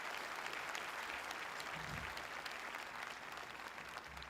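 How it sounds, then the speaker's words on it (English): A graduation ceremony crowd at Stroudsburg High School gives dense, sustained applause, a steady wash of many hands clapping at once with faint cheers underneath. "please put your hands together and give those folks in your life a heck of a clapping"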